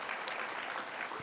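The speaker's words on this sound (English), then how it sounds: "So let's give them a round of applause." Brief, soft applause from the audience at a fireside chat on youth homelessness prevention, even and continuous, heard from a distance.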